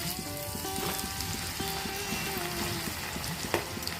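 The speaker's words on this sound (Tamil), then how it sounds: "இப்போ கொஞ்சம் கொஞ்சமாக எண்ணெயில் பொரிக்கிற அளவுக்கு போட்டுக்கணும்." Constant bubbling sizzle of moong dal snack batter frying in hot oil, a dense hiss with soft pops, while faint music plays in the background.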